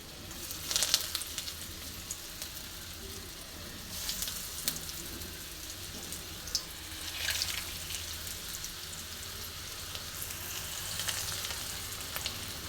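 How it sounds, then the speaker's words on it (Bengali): Pumpkin and coconut chops fry in hot oil over a medium flame, a soft steady sizzle with a few brief louder bursts as pieces are added, no voices. "এবার আমি আস্তে আস্তে আমার নারকেল কুমড়োর চপ বা কুমড়ো নারিকেলের চপ আমি আস্তে আস্তে ছেড়ে দেবো"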